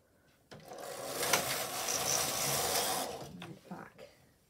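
A Silver Reed standard gauge knitting machine carriage sweeps across the needle bed in one sustained, close whirring pass of about two and a half seconds, with quieter clicks and shuffles before and after.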